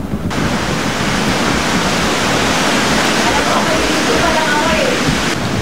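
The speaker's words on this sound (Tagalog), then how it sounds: "Ang tubig mabilis na rumaragasa." Floodwater rushes hard through the grounds of Kanaynayan Elementary School in Zambales at the height of a typhoon, a loud, continuous broadband roar that holds steady throughout.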